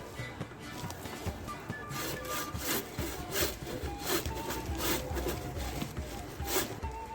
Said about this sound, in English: Neatly cut some wood.